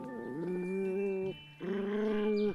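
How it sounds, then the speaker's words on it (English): A dog whimpers in two long, steady, high-pitched whines, close and fairly loud, with a brief pause between them and no talking. "dogs wag their tails as a way of showing emotion, like fear or excitement"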